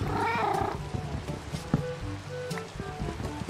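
In Minecraft, a cat gives a short purring, mewing sound at the start. Game noises and a few scattered clicks follow.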